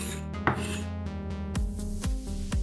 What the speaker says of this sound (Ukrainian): До них пів цибулі середнього розміру. Дрібненько нарізаємо.